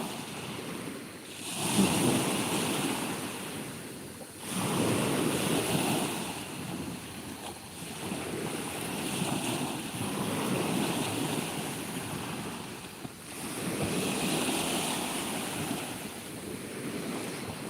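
Waves wash steadily onto the shore of a quiet, clean sea cove beside a forest, broad surf swells rising and falling in slow surges with some wind rumble, no voices.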